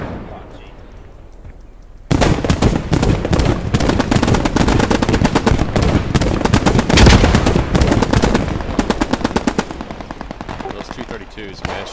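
Rapid, loud automatic gunfire from a Post Scriptum battle rages nearly nonstop after a quiet two-second lead-in, with dense cracks of explosive rounds.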